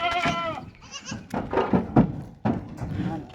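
Kathiawari goats at a livestock sale bleat repeatedly close by, several wavering cries overlapping with a voice talking in the background and a few dull thumps.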